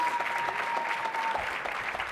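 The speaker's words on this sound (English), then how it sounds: "Let's give them another round of applause." Applause from a convention audience after a panel discussion, dense steady clapping filling the room at moderate volume for a couple of seconds, with a faint voice briefly audible underneath.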